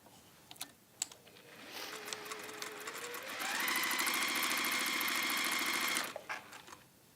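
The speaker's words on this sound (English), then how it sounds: "I'm going to sew down one side and then down the other" A domestic sewing machine stitching plain fabric for a drawstring caddy: a slower start with soft ticking, then a steady fast whirring run for a few seconds before it stops, with a few light clicks around it.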